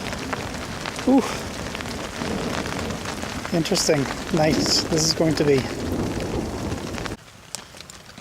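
Heavy rain downpour during a thunderstorm in the woods, a steady hiss of rain on surfaces throughout, with someone briefly talking over it near the middle and the rain dropping away sharply at the end.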